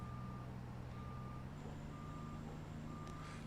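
Truck reversing beeps from a video game while a trailer is backed up, a regular series of clean electronic tones repeating at an even pace over a low engine drone, with no talking.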